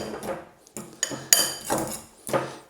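Metal fork working through a mashed hard-boiled egg yolk mixture in a bowl, giving a few separate scraping clinks against the dish with short pauses between them, close up and alone.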